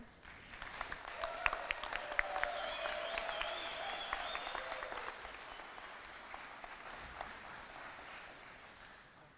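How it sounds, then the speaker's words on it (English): Sustained applause from a crowd at a sports wall of fame induction ceremony, steady clapping that swells early and slowly fades over several seconds, with a brief tone sounding near the start. "Please give a big round of applause to Sensei Zorislav Krco."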